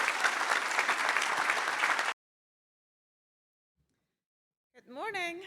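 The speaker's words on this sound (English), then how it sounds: "Let's give our panelists a round of applause" Breakfast fundraiser audience applauding panelists, a full burst of clapping for about two seconds that cuts off abruptly into silence, followed by a brief spoken voice near the end.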